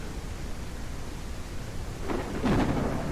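Thunder and rain in the farming game Ranch Simulator: a steady wash of rainfall, then a loud rolling thunder rumble builds near the end, with no talking.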